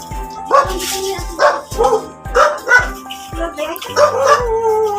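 A voice rhythmically imitates a dog's barking, about eight woofs in a steady beat, loud and close, over a pulsing background beat.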